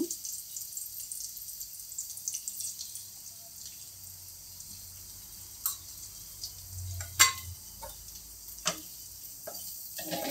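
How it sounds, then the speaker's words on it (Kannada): Onion with turmeric, coriander and chilli powders frying in oil for mushroom masala gravy, a low steady sizzle with occasional stirring clinks and ticks, close and fairly quiet, no talking. "ಸ್ವಲ್ಪ ಮಸಾಲೆ ಸ್ವಲ್ಪ ಚೆನ್ನಾಗಿ ಫ್ರೈ ಆಗಲಿದೆ"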